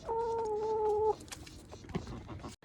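Chickens clucking near a backyard coop, a sustained tonal call in the first second followed by softer scattered clucks and rustling, fairly quiet with no voices.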